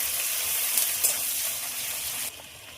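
Bay leaf, panch phoron five-spice and onion sizzle steadily in hot oil as they are stirred, a bright continuous hiss with a few scraping touches, dropping abruptly quieter near the end.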